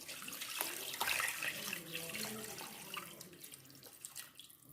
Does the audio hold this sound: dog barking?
no